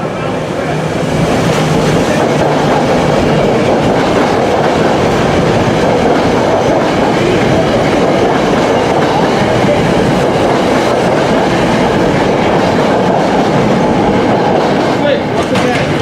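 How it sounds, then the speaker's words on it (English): A six-car Doylestown-bound express electric train roars past Jenkintown station, loud and close throughout, with a rushing rumble and rhythmic wheel clatter sustained the whole time and a voice talking underneath. "6576, I think 6-car train. Doylestown bound. Express."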